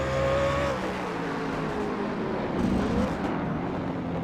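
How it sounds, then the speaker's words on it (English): In a racing game at Sonoma, a Toyota race car roars close by as it brakes, its engine note stepping down through downshifts in a steady, loud drone with tire noise underneath. "Yeah, he actually downshifts there as he tries to brake."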